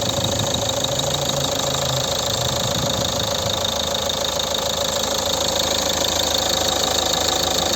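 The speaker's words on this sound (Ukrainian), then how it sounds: "Ось робота двигуна" A 2009 Volvo V50 2.0 diesel engine idles steadily, a constant rumbling drone with a faint rhythmic knock, close and fairly loud, with no voices.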